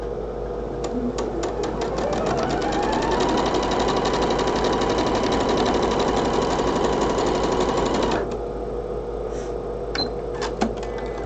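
Sewing machine stitching quilt block pieces, a fast steady mechanical whirr with rapid needle clatter that runs for several seconds, stops abruptly, then gives a few faint clicks.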